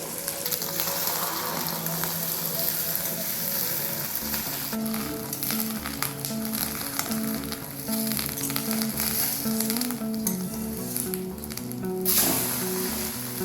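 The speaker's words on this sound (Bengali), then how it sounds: "এবার ডিমটা আমি দিয়ে দিলাম তেলের মধ্যে।" An egg frying in very hot mustard oil, a steady close sizzle and crackle that runs without a break, with occasional spatter.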